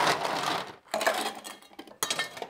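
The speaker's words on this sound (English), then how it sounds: "So now I'm ready to fill that up with some ice and give it a shake." Ice rattles into a metal cocktail shaker tin in three quick bursts of clattering, clinking cubes, close and moderately loud, with short pauses between scoops.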